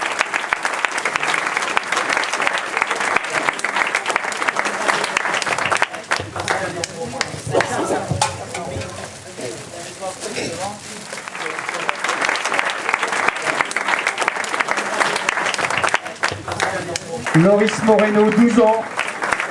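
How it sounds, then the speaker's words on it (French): An audience applauds prize winners at a ZF & MCA motorcycle award ceremony, with steady clapping rising and falling across the clip while an announcer's voice names winners over it. "On les applaudit évidemment tous."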